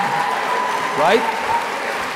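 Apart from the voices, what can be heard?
audience applause at Texas Tribune Festival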